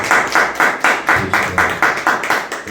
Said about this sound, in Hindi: हम लोग चलिए एक अच्छा ताली बजा देते हैं।